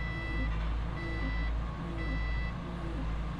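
Dump truck with its bed raised, sounding steady electronic warning beeps in a regular pulse of about two per second over a loud low engine rumble.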